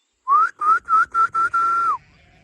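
Someone whistles at a sheep and goat pen, five short rising whistles followed by one longer held note, fairly clear, before falling quiet; no bleating is evident.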